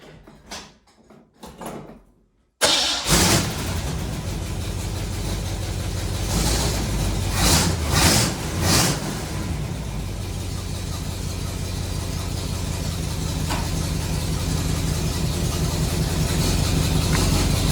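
A Chevy 350 V8 in a Squarebody K10 pickup fires up after a quiet spell of small clicks, then settles into a loud, steady, close running rumble with a few revs early on.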